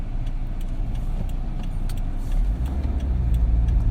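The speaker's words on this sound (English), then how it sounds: "I drive while I do this." A car is heard from inside while driving, a steady low road and engine hum with light rattles and clicks. The rumble grows heavier toward the end, and there is no talk.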